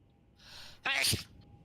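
A single close sneeze, a short breathy intake followed by a sharp burst, alone in a quiet setting.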